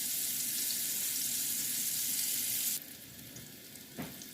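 Potato pieces fry in a hot pan with a dense, steady, close hiss that fills the first part, then drops to a softer sizzle as the pan is moved, with a brief clatter near the end.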